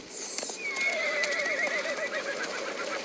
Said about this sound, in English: But the black horse only gallops faster, pummeling straight for the gate.